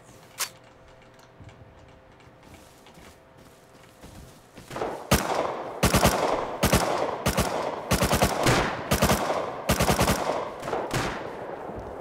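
Rapid machine gun bursts in a shooter video game, a few isolated shots followed by repeated close, loud short bursts in quick succession.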